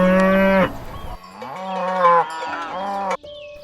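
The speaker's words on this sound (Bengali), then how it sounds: "ভোর হয়েছে বাছুরটা ডাকছে তার মা" A cartoon calf moos for its mother cow at dawn, several drawn-out bovine calls close and loud, sounding alone.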